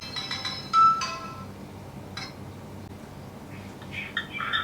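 A phone ringtone from an incoming call, with bright electronic tones and short chirping bursts, fairly faint over a low background hum, and the melody resumes near the end.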